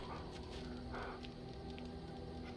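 In the video game Dragon Age Origins, a dog makes short whimpering, yipping sounds over a steady droning game soundtrack.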